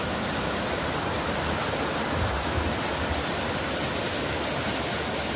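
A mountain river rushes in a steady, dense, loud roar that fills the whole stretch without pause, close at hand and with no voices over it.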